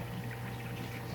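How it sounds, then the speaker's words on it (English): Water from a clear siphon hose spills steadily onto the ground, a continuous close, even rush of liquid with no talking. "what I got is water coming out in the ground"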